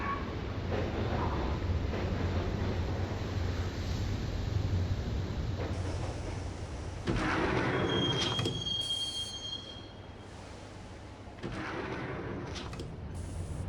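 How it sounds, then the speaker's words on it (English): A subway train ride from the Max Payne video game, with a steady loud rumble of wheels on track throughout, broken by high metallic squeals of the wheels partway through. "the train doors had already shut behind me, and I was in for the ride"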